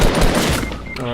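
Rapid bursts of gunfire in a video game fill the short moment, loud and dense like a machine-gun fusillade up close.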